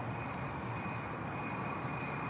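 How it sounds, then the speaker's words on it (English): A passing train rumbles steadily at a distance in an outdoor park, a continuous broadband roar with a faint high whine, at low overall level with no talk. "it's another train coming."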